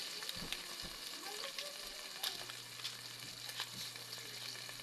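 Fried ingredients for pochero sizzle quietly in a pan while being stirred, with soft scraping strokes and small clatters of the utensil recurring over a continuous low frying hiss.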